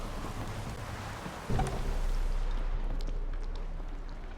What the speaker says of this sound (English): Looks like it's getting a bit stormy as well up here.